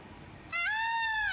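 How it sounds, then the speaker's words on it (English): A peacock lets out a single loud, rising, wailing call that begins abruptly and holds its pitch, heard alone after a quiet, hissy start. "Yes, a peacock."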